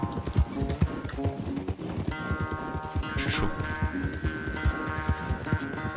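Horse hooves clip-clop in a quick, driving gallop rhythm in Red Dead Redemption II, loud and close throughout, with a short spoken phrase and some game sounds over the top.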